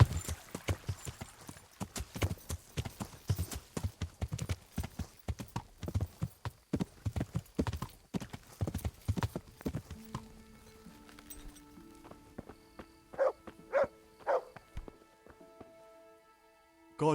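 A horse gallops through rough terrain in a video game, its hooves clip-clopping in rapid uneven bursts for several seconds before fading, then a few tonal game sounds ring out near the end.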